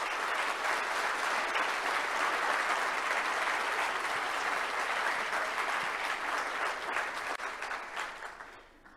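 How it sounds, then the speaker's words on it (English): Sustained, dense audience applause fills a tourism industry conference hall, steady and loud throughout before tapering off in the final second. "Please give all of you, all yourselves, all your colleagues a big round of applause for your achievement today."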